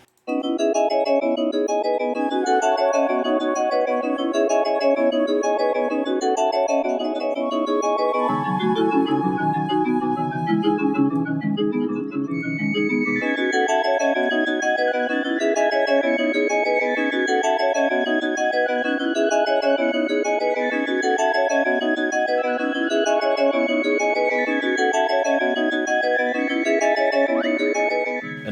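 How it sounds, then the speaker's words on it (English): Layered melodic beat with bright, breathy flute-like lines weaving in and out over repeating tones; the low end drops out briefly in the middle. "there's these flutes that come in and out, which sound pretty cool as well."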